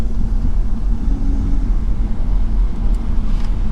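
Audi RS2 estate's five-cylinder engine idles with a steady, loud low rumble, a continuous drone with light traffic around and no talking.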